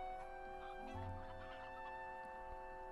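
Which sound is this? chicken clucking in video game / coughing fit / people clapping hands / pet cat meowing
chicken clucking in video game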